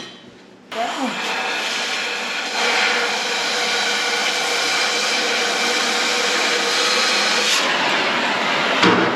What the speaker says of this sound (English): I'm just going to use a torch to cut that last last little top out